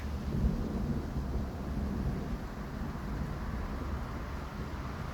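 Thunderstorm rumble with rain in Lempäälä, Finland, a continuous low roll of thunder and steady downpour noise holding fairly constant throughout, with no voices.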